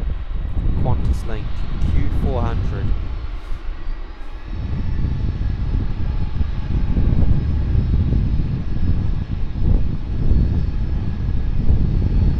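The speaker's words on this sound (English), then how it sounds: "A330 taxiing in here." An Airbus A330 taxiing at Sydney Airport makes a loud, steady jet engine rumble and roar that fills the whole stretch, with brief faint chirps early on.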